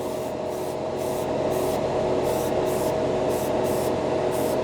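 Acrylic paint being sprayed onto a scale-model piece, a steady close hiss of an airbrush that continues throughout under a faint hum.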